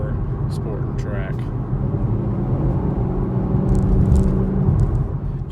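A 2021 Chevy Camaro SS V8 engine and exhaust make a steady low droning rumble that swells slightly toward the end, running beneath a voice.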